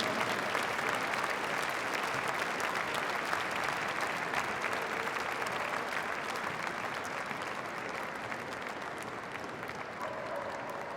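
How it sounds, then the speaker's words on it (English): Audience applause fills a dog show hall at Crufts 2006, a steady, even wash of many hands clapping, distant and moderately quiet, holding without pause throughout. "A good warm hand of applause in appreciation of their success here today at Crufts 2006"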